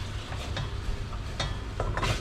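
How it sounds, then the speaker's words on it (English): Choko pieces are stirred around a pan over low heat, a continuous close sizzle overlaid by repeated scraping strokes of the spoon, with no talking. "Just give that a stir around."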